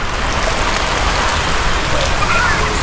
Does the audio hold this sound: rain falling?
yes